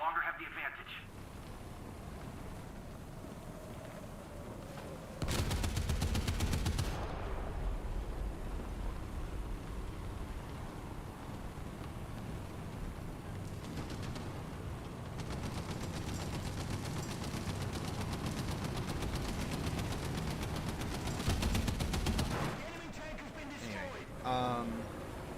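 Bursts of .30 cal machine gun fire rattle through a video game battle, heavy automatic volleys around the middle and near the end over constant game noise, with a voice talking throughout.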